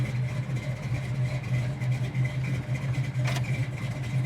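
A 1966 Chevelle SS big block V8 idles up close with a steady, loud, low rumble and a slight lope. One brief sharper noise comes near the end, and no one speaks over it.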